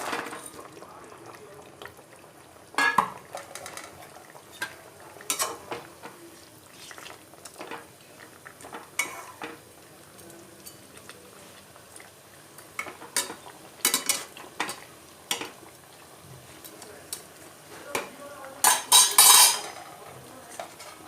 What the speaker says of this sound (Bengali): এখন আমি মাছগুলো সব দিয়ে দেবো।